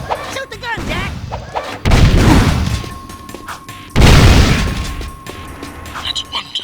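Gunfire in the video game Jak II, with two loud booming blasts at roughly two-second intervals, each decaying slowly, set among game music and effects while a voice speaks between shots.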